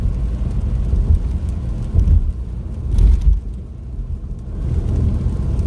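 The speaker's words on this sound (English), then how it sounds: "You can still hear the rain." Heavy rain heard from inside a car driving a highway during a tropical storm, a loud continuous rumble of tires and downpour with swelling gusts and washes.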